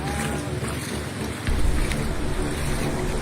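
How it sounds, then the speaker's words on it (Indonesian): Strong wind roars across a flooded town square in Demak, Central Java, during heavy rain, a loud continuous buffeting hiss of wind noise on the microphone with a deeper surge partway through. "Angin."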